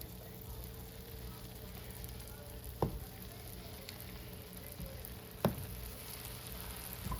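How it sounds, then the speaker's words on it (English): Chicken frying in butter in a skillet, a steady low sizzle with a couple of sharp pops and clinks from the pan, heard alone without talk. "I'll lay this in here. Begin to fry a little bit."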